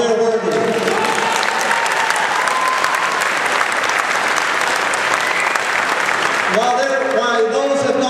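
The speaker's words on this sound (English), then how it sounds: "let's give them a round of applause" Sustained audience applause at a Tea Party rally, a dense, steady wash of clapping that fills the whole stretch, loud and close, with a few voices mixed in near the end.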